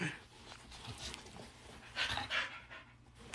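A dog pants in quick, breathy bursts close by, the huffing growing louder near the end of the short stretch, with faint whimpering undertones and no talk.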